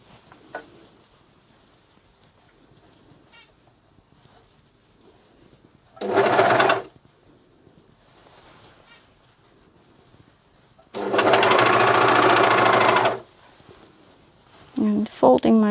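A Juki MCS1500 coverstitch machine hems a top in the round, running in two steady bursts, a short one then a longer one, close and loud, with quiet handling of fabric between.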